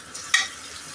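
Garlic fries in a pan over a low flame, giving a soft, steady hiss with one brief sharper crackle near the start before it cuts off.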